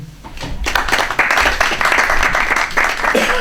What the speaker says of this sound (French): Et nous pouvons les applaudir.